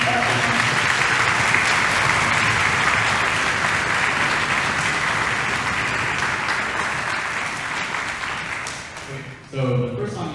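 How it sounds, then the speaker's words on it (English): Sustained audience applause after a Philharmonic Orchestra concert piece, a dense, steady wash of clapping that fades slightly near the end before a brief swell of voices and music. "Big round of applause for him."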